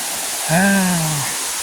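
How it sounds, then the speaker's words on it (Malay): The sixth tier of a waterfall at Kanching Eco Forest Park, Rawang, roars in a constant, dense rush of falling water, with a brief low humming tone rising over it midway. "Ini adalah air terjun yang kita tengok tadi lah, yang tingkat ke-6 tu."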